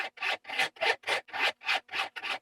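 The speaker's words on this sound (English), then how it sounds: "hitting it with a sanding sponge" Eight rhythmic rasping strokes of a sanding sponge scraping across a metal blade, steady back-and-forth, close and fairly loud with short gaps between.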